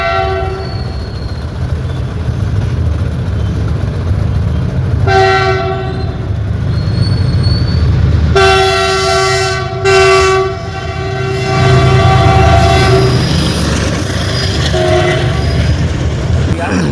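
A train passes a closed railway crossing near Rajkot, sounding loud and close: a steady rumble of wagons, with repeated blasts of the horn in the middle and near the end.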